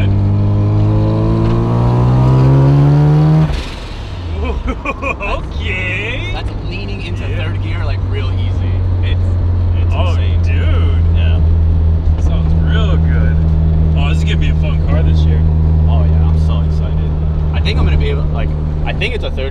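A Mazda RX7 on a test drive pulls away with a climbing engine whine that drops sharply after a few seconds. A loud, steady drone from inside the car follows, with voices talking over it.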